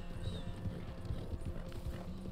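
Horse hooves in the video game Red Dead Online beat a steady, quick clip-clop at a low level, a continuous galloping rhythm with no talk.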